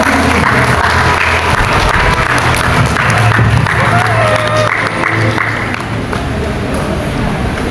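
Sustained applause from an audience at a parenting seminar on raising children in the digital era, dense and steady throughout with some overlapping crowd noise.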